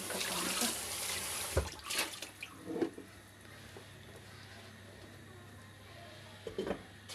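A pot lid being washed under running water in a home kitchen, with a steady broadband rush of flowing water and a few soft splashes and clatters as the lid is handled.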